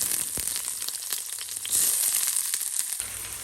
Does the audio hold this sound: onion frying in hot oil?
yes